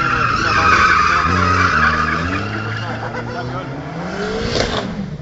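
A drift car slides through a corner at the 2009 Hellenic Drift Championship in Greece, its tires squealing and skidding in a loud, continuous roar with the engine beneath, while a commentator talks over it.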